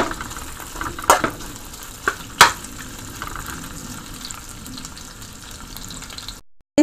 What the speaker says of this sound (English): So I put the meat in to fry a little.